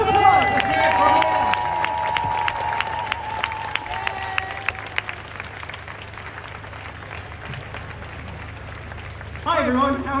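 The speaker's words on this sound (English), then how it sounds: "Round of applause. Let's hear it from him." Outdoor crowd at a London Restore Nature Now march applauds and cheers for the RSPB president, a broad wash of clapping and whoops that thins over ten seconds before a voice starts speaking at the end.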